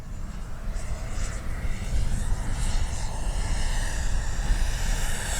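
An Arrows RC F-15 with twin 64mm electric ducted fans makes a pass overhead, a steady, moderately loud whooshing whine that holds without pause.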